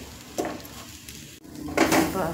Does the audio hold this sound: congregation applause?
no